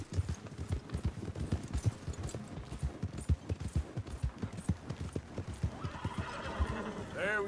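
Horse in a PS4 video game gallops with rapid, steady clip-clop hoofbeats throughout, ending in a drawn-out whinny; a voice speaks briefly over the galloping.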